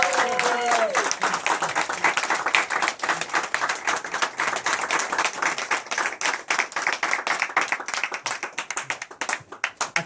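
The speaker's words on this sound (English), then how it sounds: "Please give him warm applause." Standing ovation for a performer at a live show, dense rapid clapping from a large crowd filling the room with a few cheers, loud throughout and thinning slightly toward the end, a voice briefly heard at the start.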